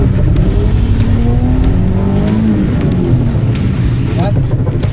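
Race car engine at full throttle from a standing start during a Shiftech driving challenge, loud and close, with rising revs and gear changes while voices talk over it.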